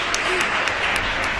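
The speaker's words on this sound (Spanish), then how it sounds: "¡Un aplauso!" Schoolchildren applaud during a classroom radio session, a brief burst of busy clapping with voices mixed in.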